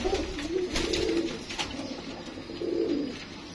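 Domestic pigeons kept on a home rooftop coo in deep, rounded bursts, close by. Two or three warbling phrases rise and fade against soft background noise, with no voices.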